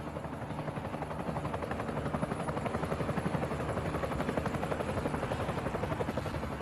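A small rescue helicopter strains to lift off under a heavy load on the ground. Its steady, rapid rotor chop stays loud and close throughout.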